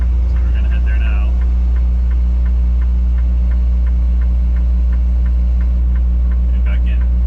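A Prime Inc semi truck idles with a heavy, steady low diesel rumble while backing toward a loading dock, a regular faint beeping ticking through it, with someone talking over it.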